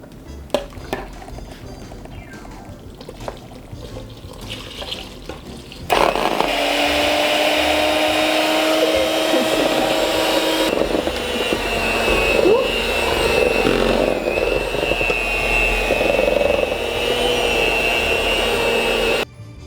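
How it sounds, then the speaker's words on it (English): An electric mixer beats a dough mixture of flour in a home kitchen, switching on after a quiet stretch and whirring loudly and steadily for over ten seconds with a slight drop in pitch partway, over faint clinks and occasional talk. "while I'm using the blender"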